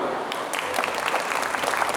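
A crowd claps at the opening ceremony of the 2024 K-pop cover dance festival at Samyan in Thailand. The applause is a continuous, fairly loud clatter with a busy, uneven texture throughout.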